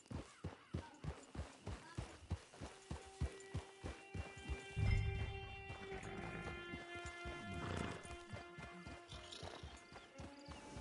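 Horse hooves clip-clop in a steady, even rhythm in Red Dead Redemption 2, close and fairly loud, with a brief snort midway and soft game ambience beneath.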